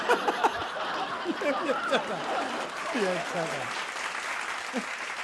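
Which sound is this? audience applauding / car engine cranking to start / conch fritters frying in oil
audience applauding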